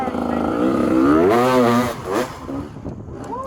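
A hard enduro motorcycle on technical rocky terrain at a 2024 Moab race gives loud, close engine revs whose pitch rises and falls in quick bursts, with a voice likely mixed in.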